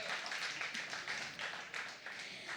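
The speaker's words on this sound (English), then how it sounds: "You can clap for that, yeah." An audience at a presentation claps together in a brief burst of applause. The claps are bright and dense, with a few surges, and fade slightly toward the end.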